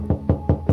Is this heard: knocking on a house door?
yes